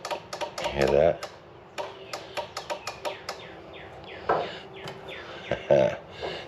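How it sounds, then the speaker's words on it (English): A Cub Cadet RZT 42 zero-turn mower with a PTO that will not engage gives off a series of sharp, irregular clicks, close and distinct, mixed with someone talking. "Heard that clicking?"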